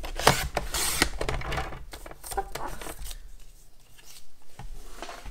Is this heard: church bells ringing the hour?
no